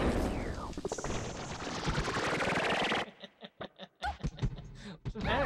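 Bomb blast inside Super Smash Bros Melee, a dense loud burst of explosive game noise lasting a few seconds, then broken bursts with voices reacting over it.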